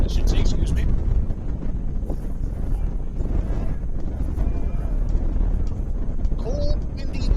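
Heavy wind buffets the microphone at a cold late-May men's soccer match in Ontario, a constant low roar for the whole stretch, loud and rumbling, with faint background sounds underneath.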